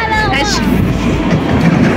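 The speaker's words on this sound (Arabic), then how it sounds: "عرفتوا الترام دايز" A tram rolls past on its tracks in Rabat, a steady rumbling train-like clatter close by and fairly loud, with some voices mixed in underneath.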